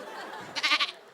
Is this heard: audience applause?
no